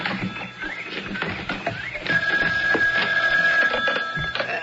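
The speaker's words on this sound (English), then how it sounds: "There's the phone." A telephone rings indoors in a 1980 television sitcom scene, with a sustained electronic ring tone running through the second half over background clatter.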